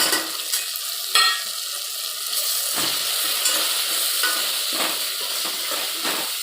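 Chilli powder, turmeric and spices sizzling and frying in a hot pan, a continuous bright crackle with occasional stirring scrapes, close and fairly loud, no talking.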